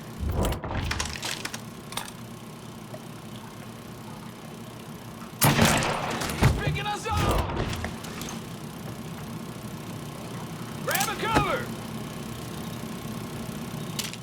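Gunfire in the video game Mafia 3: loud sharp shots come in a few bursts near the start, middle and end over a steady engine-like ambient hum.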